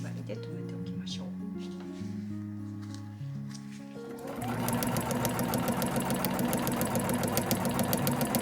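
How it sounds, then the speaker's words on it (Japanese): A home sewing machine stitches along the fold of a nylon tote bag, a fast, steady mechanical whirr with rapid ticking that starts midway after a stretch of someone speaking. "ここの折った線の上を縫います"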